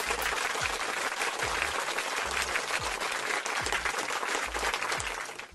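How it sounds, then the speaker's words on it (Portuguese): Steady clapping from a crowd fills the space, dense and continuous, with a few low thumps recurring underneath. "Vou bater mais uma palmas aqui pra esse drama"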